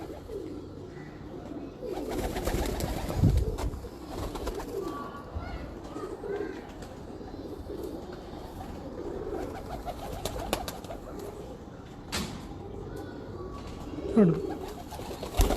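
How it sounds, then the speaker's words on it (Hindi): Ferozpuri pigeons coo softly on a rooftop in DHA, Lahore, amid a busy background of rustling, scattered bird sounds and occasional clatter, with a louder coo near the end. "दिखाओ जी फिरोजपुरी कबूतर का शौक"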